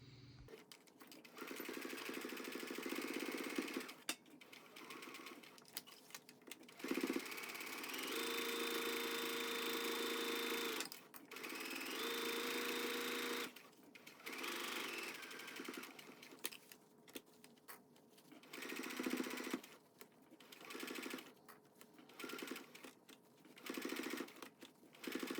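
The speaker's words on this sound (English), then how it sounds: "So I'm gonna sew up to the marking, turn, sew around the pocket, finish at this marking," A sewing machine stitches a seam on a vest in bursts of steady mechanical whirring, stopping and restarting several times as the fabric is turned.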